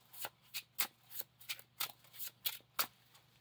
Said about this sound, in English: This one's going to get shuffled in.